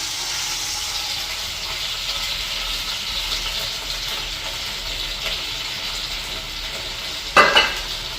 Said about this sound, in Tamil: இதில் வந்து இப்போ கருவேப்பிலையும் உள்ளியெல்லாம் நான் பொரிச்சு எடுக்க போகிறேன்